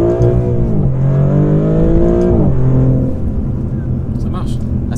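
Maserati GranTurismo Modena with a 490 hp V6 accelerating hard, its engine note climbing steadily, dropping at a gear change, then pulling again, loud and close throughout under ongoing talk.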